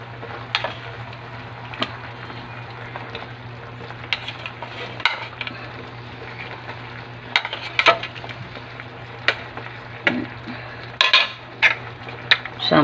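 Milkfish (bangus) cooks in a pan for a sweet and sour dish with pineapple tidbits, a low steady sizzle under repeated clinks and scrapes of utensils against the pan.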